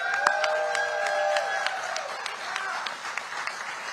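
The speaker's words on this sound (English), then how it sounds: "I want to thank my team back here, and this is some of them here. Round of applause." A crowd at a Kentucky primary night event claps and cheers for a campaign team, a mix of scattered sharp claps and a sustained whistle or cheer at the start, fading to sparser clapping.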